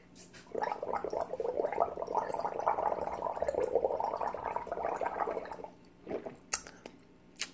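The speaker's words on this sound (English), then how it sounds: "I'm gonna gurgle some salt water." Wet, bubbling gargle held for about five seconds, close and steady, followed by a few short splashy spits and clicks.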